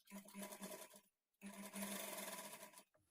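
A sewing machine stitches a lined blouse at a half-inch margin in two quick bursts separated by a brief pause, the motor's whir close but fairly quiet, with no voices.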